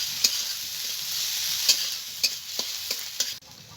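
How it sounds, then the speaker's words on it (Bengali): Raw mango with spices being stir-fried in a pan, a steady sizzle broken by several distinct scraping stirs of a spatula, ending abruptly. "মশলার সঙ্গে আমি ভালো করে কষিয়ে নেব।"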